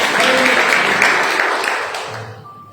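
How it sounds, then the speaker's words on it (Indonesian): A church congregation at a Good Friday service claps in a dense, fairly loud burst of applause that fades out over a couple of seconds. "Kita tepuk tangan bagi Tuhan Yesus."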